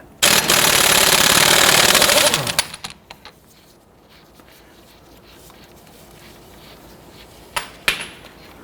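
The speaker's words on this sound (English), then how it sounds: "We're going to use a 30mm socket to loosen and remove the axle nut." A power tool rattles loudly for about two seconds, loosening a front axle nut with a 30mm socket on a 1992-1996 Toyota Camry, then cuts out, leaving quiet shop noise and a couple of sharp metallic clinks.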